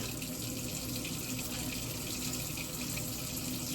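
A kitchen water tap runs steadily while hands are rinsed, a continuous, fairly faint splashing flow with no pauses and no talking.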